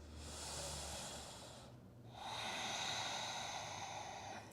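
Deep, deliberate breaths during a yoga flow: a long, airy inhale, a short pause, then a fuller exhale, close and soft with no talking.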